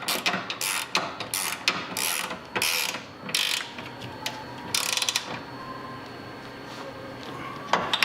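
A ratchet tightens the lower control arm bolts on a 2005-2014 Mustang GT, giving rapid bursts of close, loud clicking that stop and restart, with pauses and lighter metallic handling between them.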